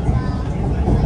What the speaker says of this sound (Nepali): यस्तो हुन्छ हङकङको ट्रेन।